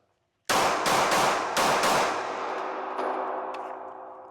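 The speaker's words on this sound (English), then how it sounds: "We're shooting now, bro." A Canik METE MC9 pistol fires about five sharp, loud shots at a range in a quick, uneven string, each crack ringing into a long, fading echo.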